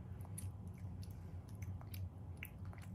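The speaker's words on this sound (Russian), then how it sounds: "А некоторые жуют конфеты." Candy being chewed close up early in the morning, with soft wet mastication and crunchy bites repeating irregularly over a steady low hum, no talking.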